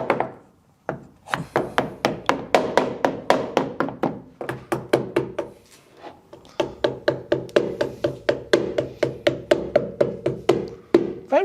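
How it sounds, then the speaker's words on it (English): A rubber hammer taps a door seal onto a Land Rover Defender overland camper, striking in quick rhythmic runs of dull, close thunks with brief pauses between bursts. "much easier with a rubber hammer"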